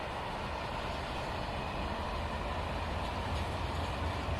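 Steady, continuous engine rumble from a Class 68 diesel freight locomotive in Train Simulator, a broad even drone with no pauses, heard alone at a constant level.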